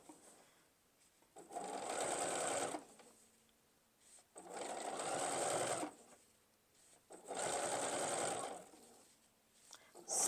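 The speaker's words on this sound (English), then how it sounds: "I do have my sewing machine set with the needle down, so when it stops, that needle stays in place." Sewing machine set to needle-down stitches quilt binding in three steady, even runs with short quiet pauses between, close and without voices.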